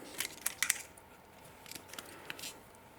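Wire cutters snip the end of jewelry wire on a wire-wrapped triangle stone dangle pendant, a few sharp faint clicks close by in a quiet room.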